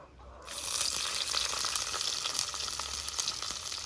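Onions and mustard seeds sauté in a pan for crab curry on a kerosene stove. A sudden sizzle kicks in after a quiet start, then keeps crackling steadily at close range with no talking.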